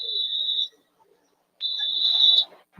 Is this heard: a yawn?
no